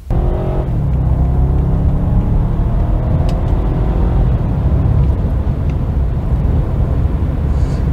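A BMW 840ci with a cable-operated throttle drives on the road, giving a loud continuous low engine rumble and road roar heard from inside, steady throughout with a brief higher tone at the start.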